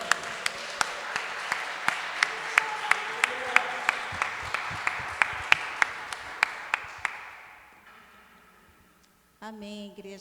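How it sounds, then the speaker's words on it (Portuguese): A church congregation applauds during a celebration service, a dense wash of clapping with sharp accents that builds and then fades over several seconds, before a brief voice enters near the end. "Eu queria que você aplaudisse a Deus"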